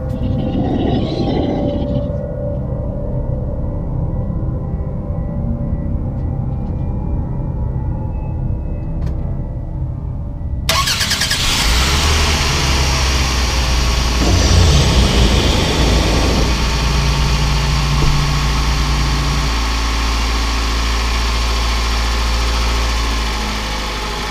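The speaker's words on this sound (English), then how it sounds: "You can see the Hulkman started the car." A car engine jump-started by a Hulkman Alpha85 battery jumper catches suddenly and settles into a loud, steady idle that rumbles on alone, following a quieter stretch with faint hum before it fires.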